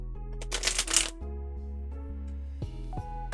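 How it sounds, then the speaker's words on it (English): A full-size tarot card deck is riffled in one quick, crisp burst of fluttering card sounds, close and fairly loud, then a few soft taps and a low background hum follow. "You know how hard it is to shuffle a full tarot deck size like that."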